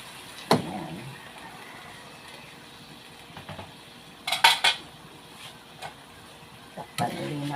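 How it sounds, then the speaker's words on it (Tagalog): Metal cooking pot lid being handled while pakbet simmers in a home kitchen: a sharp clank near the start, a cluster of clattering knocks midway, and another clink near the end, over low background hum. "Takpan ulit natin guys."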